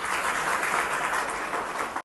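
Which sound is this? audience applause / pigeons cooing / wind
audience applause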